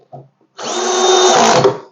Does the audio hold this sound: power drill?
yes